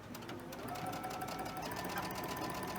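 Steady rapid chatter of a sewing machine stitching across quilt block seams, continuous and fairly faint, with no pauses across the stretch.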